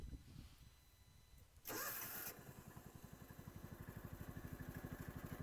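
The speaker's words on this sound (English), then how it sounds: "And here she is at idle and not fully warmed up." A John Deere Gator utility vehicle engine, choke pulled out and not fully warmed up, cranks and catches with a loud burst, then settles into a steady, rapid idle thumping close by.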